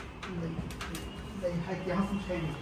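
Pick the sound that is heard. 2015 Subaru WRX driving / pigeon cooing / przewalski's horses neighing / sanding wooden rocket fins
pigeon cooing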